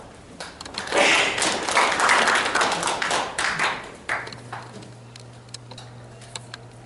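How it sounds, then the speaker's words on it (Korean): Audience applause greets a guest speaker at an energy security lecture, a burst of clapping from many hands that swells, holds for about three seconds and then thins into scattered claps before a low hum remains. "박수로 맞이해 주십시오."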